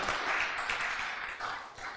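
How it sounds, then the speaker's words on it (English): A church congregation claps in praise during a Sunday sermon service, a steady, dense wash of many hands clapping together at moderate volume throughout. "let's give God a clap of praise for that"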